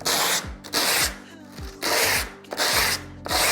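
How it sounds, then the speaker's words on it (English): Sandpaper rubbed along the flat edge of a stamped metal cuff bracelet in a few long, even strokes, each a loud close scraping rasp separated by brief pauses. "I'm gonna hold my sandpaper here, and I'm just gonna run this down just a few times."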